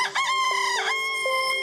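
A backyard rooster crows once, loud and close, with a long sustained harmonic call that rises and then holds steady, heard alone with no talking.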